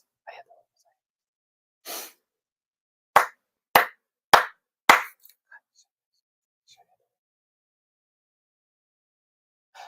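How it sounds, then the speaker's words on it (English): Four sharp, evenly spaced hand claps in a Konkokyo prayer, loud and close, with a steady pause between each. Brief soft voice sounds come before them, and quiet follows. "four sincere claps"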